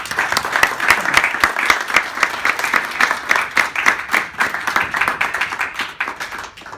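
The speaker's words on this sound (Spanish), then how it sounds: "el aplauso ya se lo dieron a Edgardo" Audience applause for speaker Edgardo after a talk on IoT and electronics, with distinct individual claps from a smallish room, steady and fairly close, tapering toward the end.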